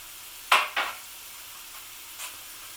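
Vegetable curry ingredients and paste fry in a pan with a soft steady sizzle, broken by two sharp scraping stir strokes early on and a fainter scrape near the end.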